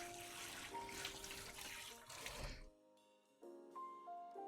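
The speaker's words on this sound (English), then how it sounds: "Let's wash my hands." A tap runs during handwashing, giving a bright, splashy stream of water that cuts off abruptly partway through. Faint clinks and a tonal hum follow in the quieter stretch.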